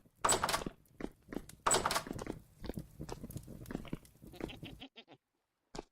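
Goat bleats from the video game Vintage Story, several loud, close bleats at the start with softer chewing-like sounds and short noises after, ending in near silence.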